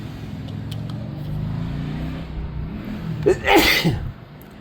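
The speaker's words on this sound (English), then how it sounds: "Yep, get the sneezes and everything on this channel." A single sharp sneeze bursts out near the end, following a steady low engine hum.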